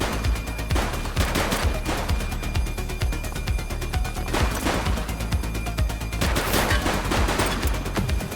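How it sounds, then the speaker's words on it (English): Dense gunfire from the police video game The Precinct, with loud repeated shots and bursts running continuously throughout, several heavier volleys standing out, with no talking. "Shots fired!"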